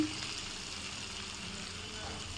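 Vegetables frying in oil in a wok give a constant low sizzle that stays even and moderately faint throughout, with no pauses.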